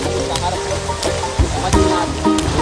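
Ganges floodwater rushing through flooded streets of Sultanganj, Bihar, a loud continuous churning flow with splashes and knocks scattered through it.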